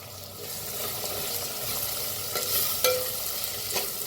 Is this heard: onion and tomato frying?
yes